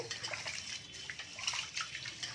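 Basmati rice being washed by hand in water for a mushroom biryani, with quiet close sloshing and swishing of grains in a steady rhythm, no voices.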